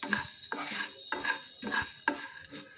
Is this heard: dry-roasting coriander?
yes